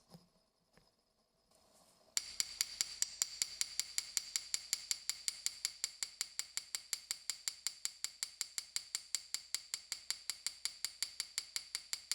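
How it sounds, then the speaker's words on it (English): A small embossing hammer taps sterling silver earrings to texture them, a fast, even series of sharp bright metallic ticks, close and clean, following a few quieter scattered knocks at the start. "For these sterling silver earrings, I simply used the small embossing hammer"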